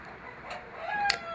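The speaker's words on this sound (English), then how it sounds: "We're having some bit of noises from the chicken outside." Chickens clucking and crowing outdoors on a farm where silage is made, a faint, brief burst of fowl calls over low background noise.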